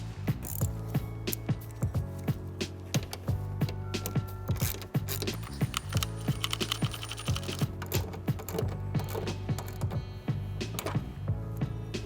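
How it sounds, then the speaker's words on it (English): A hand ratchet drives two 10mm bolts into the headlight of a 2009-2018 Dodge Ram 1500, giving close, quick clicking bursts that repeat steadily over a mechanical background. "Next, reinstall your two 10mm bolts."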